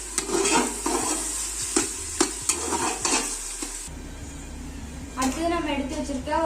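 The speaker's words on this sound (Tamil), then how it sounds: "நம்ம அரைச்சி வச்சுருக்க இஞ்சி பூண்டு, வரமிளகாய், தேங்காய் எல்லாம் போட்டு ஒரு கலர் கலரி வச்சுக்கோங்க" A ground paste of ginger, garlic, dry red chilli and coconut is stirred in a hot pan, giving a sizzle broken by repeated spoon scrapes and knocks; a voice speaks over it, and the sizzle softens while the talking continues toward the end.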